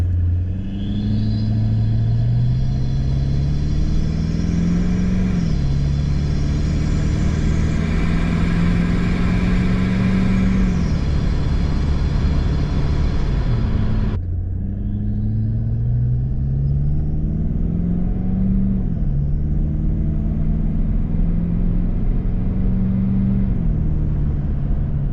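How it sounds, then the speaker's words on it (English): Toyota Landcruiser LC200 engine with a Unifilter airbox, turbo intake rumble rising and falling through repeated revs, loud and close, with a whooshing intake note above a deep steady drone. "the factory Toyota filter does dampen the noise from the turbos in this airbox"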